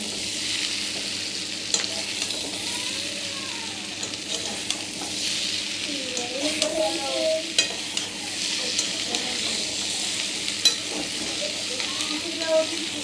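Potato curry with spices sautéing and stirred in a pan, a steady sizzle broken by scraping stirs and small clatters throughout, with faint background bird-like chirps.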